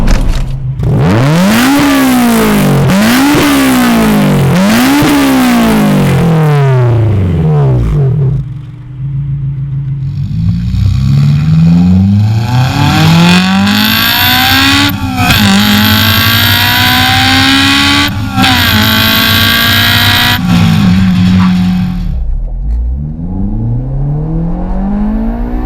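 The 2-litre, 9,000 RPM engine of a Honda S2000 revs repeatedly, loud and close, with sharp rising and falling sweeps through the gears, then long climbing pulls to a high wail before settling to idle.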